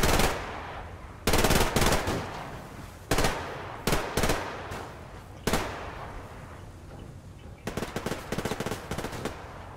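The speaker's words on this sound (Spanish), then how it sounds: "Tengo mucho disparo por aquí" Rapid automatic gunfire from the Survarium online shooter game, several loud bursts of machine-gun fire separated by short pauses, with scattered single shots between them, close and dominant with no talking.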